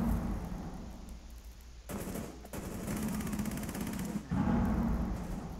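Sustained automatic gunfire in Rainbow Six Siege on the Oregon map during a team deathmatch secure-area round, loud rapid bursts running almost the whole time with a brief break, no talk.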